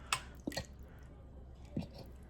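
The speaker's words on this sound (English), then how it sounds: "we're going to dump this full can of cream of bacon soup" Thick cream of bacon soup slides out of a full can in a few soft, wet plops and squelches, quiet and close with short pauses between them.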